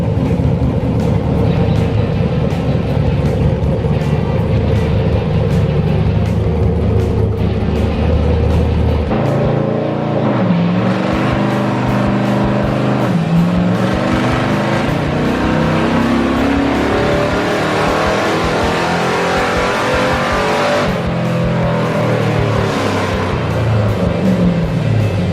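A 5.3-litre LS V8 roars continuously on a dyno, loud and close. Its pitch climbs and sweeps through a run, with a brief shift in tone partway through, and no voices are heard.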